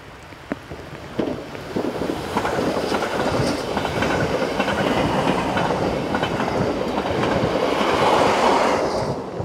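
A Swiss passenger train on the Davos Platz to Landquart line, hauled by locomotive number 649, rolls past up close with a loud, sustained rumble and rhythmic wheel clatter that swells toward the end.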